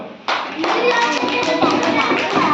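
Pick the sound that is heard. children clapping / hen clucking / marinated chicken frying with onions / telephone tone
children clapping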